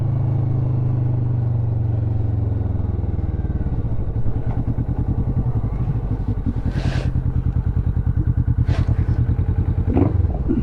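A motorcycle idles with a steady low hum, then pulls away and rides along a road in Kent, the engine pulsing evenly and close, with a few brief bursts of wind or clatter.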